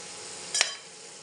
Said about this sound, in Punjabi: ਦੇਖੋ ਖੜਕਣ ਲੱਗ ਗਏ, ਬਹੁਤ ਵਧੀਆ ਆਲੂ ਪੱਕ ਗਏ ਆਪਣੇ।